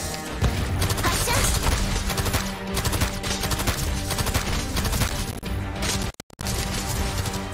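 Rapid gunfire from the mobile strategy game Arknights, a dense, continuous barrage of shots layered over loud game music and effects, with a brief dropout near the end.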